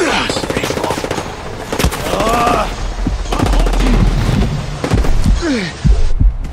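Heavy automatic gunfire from an M4 assault shotgun and other weapons in Ghost Recon Breakpoint during a police escort mission, with loud rapid bursts and impacts across the whole stretch, dense and close.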